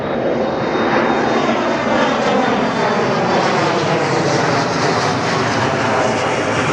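A loud propeller airplane roars low overhead, its drone swelling and sweeping in pitch as it passes close by, drowning out everything else.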